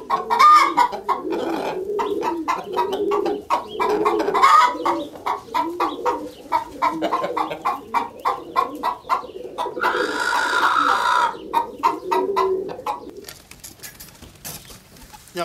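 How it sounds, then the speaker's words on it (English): Dark Brahma standard chickens, a feather-footed breed, cluck and murmur together at close range in a busy, overlapping flock chorus, with a louder burst of calls partway through. "These are dark Brahma standard chickens, and they originated from China."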